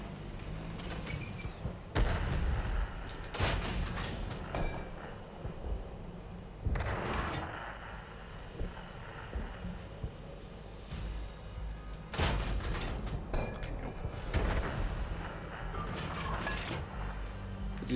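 Artillery fire in the World of Tanks video game booms out as several heavy, loud blasts at irregular intervals, each one rumbling briefly over a steady background of engine noise.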